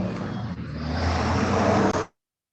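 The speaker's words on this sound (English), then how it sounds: "there's a truck going by" A truck passes outside a studio, heard as a steady, fairly loud road rumble and engine drone that holds for about two seconds and then cuts off abruptly, with no talking.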